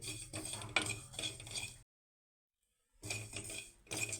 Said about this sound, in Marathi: तर हा ओवा देखील आपल्याला मंद आचेवरती भाजून घ्यायचा आहे